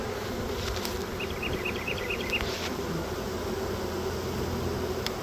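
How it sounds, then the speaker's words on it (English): Steady, dense buzzing of a honey bee swarm settled about 30 feet up near a bucket trap, a continuous close drone that holds even throughout with no talking. "The bucket bees ain't moving."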